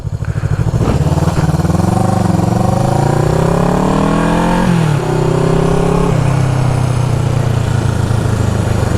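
A 1974 Honda CB360 twin-cylinder motorcycle runs on a ride, its engine loud and close as it revs up through rising pitch, drops back with a gear change, then climbs and settles into a steady drone.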